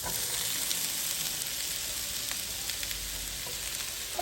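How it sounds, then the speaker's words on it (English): Onions and apples frying in warm oil in a cast iron pan, a dense even sizzle with faint crackles, close and continuous without any voices. "You can go ahead and just toss your onions in there and your apples."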